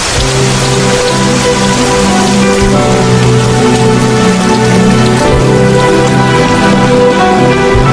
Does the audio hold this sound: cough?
no